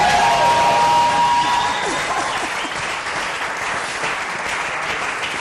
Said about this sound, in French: Est-ce qu'on peut acclamer encore